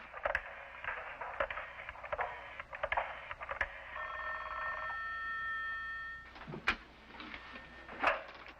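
An old telephone bell rings in one long steady burst, fairly close and clear, with faint clicks and room noise before and after.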